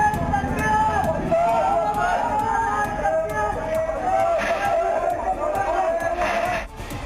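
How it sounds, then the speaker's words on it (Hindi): Rioting crowd vandalising shops in Muzaffarnagar, heard as a distant, continuous roar of agitated voices and shouting, with occasional bangs and clatter rising through the din. "भीड़ तोड़फोड़ कर रही है"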